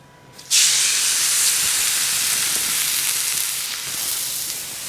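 A NY strip steak lands on a dry Lodge cast iron griddle and erupts into a loud, sudden sizzle that holds steady and close, easing only slightly over several seconds.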